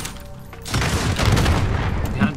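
Gunfire erupts in the battle royale game Call of Duty Warzone, a sudden loud burst of rapid shots and booms that follows a quieter moment and holds for nearly two seconds.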